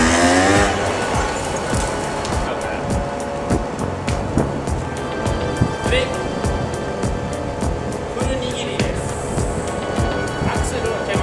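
A motorcycle engine revs hard and steadily for several seconds, a loud continuous roar with rising throttle bursts, as the throttle is opened against a fully held dirty rear brake.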